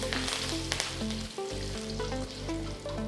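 Mustard seeds, roughly cut red chilies, hing and curry leaves crackle and sizzle in hot oil in a kadai, a steady close frying hiss with music playing underneath.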